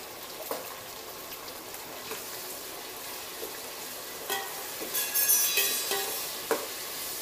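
Tomato pieces fry with onions in a pan for Andhra-style Nellore fish curry, giving a soft, steady sizzle broken by occasional stirring clinks and light spatters.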